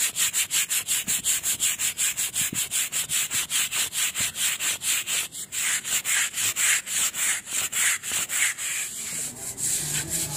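A stiff brush scrubs moss off garden surfaces in fast, regular back-and-forth strokes, a dense rhythmic scratching that continues steadily with only a brief pause, close up and with no talking.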